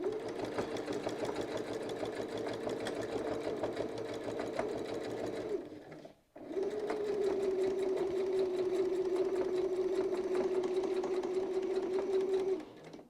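A home sewing machine stitches a quilt in a steady, close, continuous whir, pausing briefly around the middle before running on again at an even pace.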